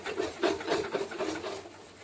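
A spatula scrapes and stirs a poppy-seed spice paste in a pan for a Bengali posto pabda fish curry, making close, repeated rasping strokes with no talking.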